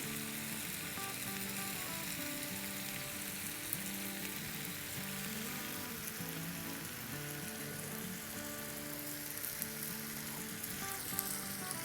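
A Lebanese kabab platter with sauce sizzles steadily on a hot plate, a continuous close crackling hiss that holds at even loudness throughout, with background music tones underneath and no talking.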